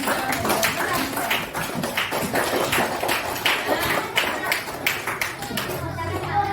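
Irregular clapping from a fifth-grade elementary school class for a classmate, a busy patter of close-range claps and taps with some thumps and murmuring among the children.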